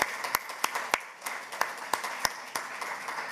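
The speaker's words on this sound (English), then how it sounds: "please join me giving a big round of applause, first for Stilpur and for all my panelists" Scattered applause from a conference audience for a panel discussion, a thin spread of individual claps with distinct sharp hand slaps standing out, fairly close and steady, without talk.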